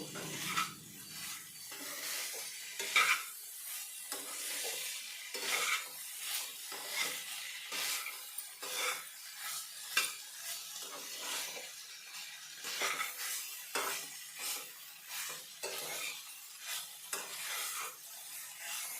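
A spoon stirs coriander powder through a pumpkin and curry leaf stir-fry in a pan, making steady scraping and rustling strokes over a soft sizzle that runs throughout.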